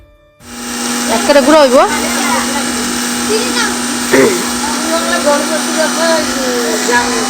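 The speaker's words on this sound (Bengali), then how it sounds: "এখানে বর্মশাই মিক্সারের মধ্যে মশলা করে দিচ্ছে" An electric mixer grinder grinds spices with a steady, loud motor whine and a constant hum, while people talk and call out nearby.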